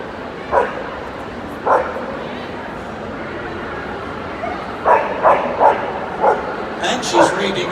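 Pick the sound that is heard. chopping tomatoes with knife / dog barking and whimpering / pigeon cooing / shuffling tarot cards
dog barking and whimpering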